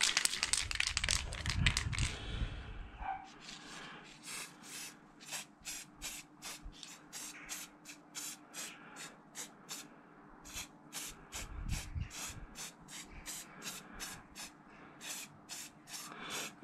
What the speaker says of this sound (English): I'm not spraying it heavy.